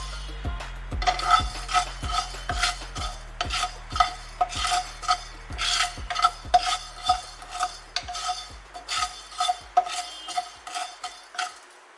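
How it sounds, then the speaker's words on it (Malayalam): Fenugreek seeds roast in a pan while being stirred, about twenty regular scraping strokes of a utensil against the metal in a steady rhythm, close and clear, with faint rattling of the seeds and no talk. "കരിഞ്ഞു പോകാതെ ഇടയ്ക്കിടയ്ക്കൊന്ന് ഇളക്കി കൊടുക്കണം."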